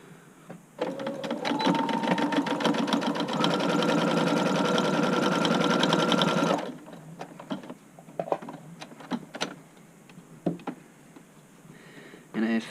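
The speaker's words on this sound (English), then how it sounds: "we're going to just do a top stitch now" A sewing machine runs a fast, steady top stitch along a button-up shirt collar for several seconds, then stops, followed by quieter handling clicks and shuffles.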